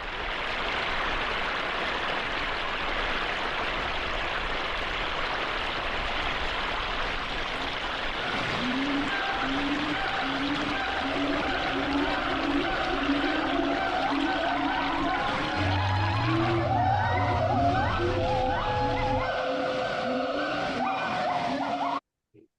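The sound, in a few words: computer-generated waterfall in Thailand soundscape from Audio Metaphor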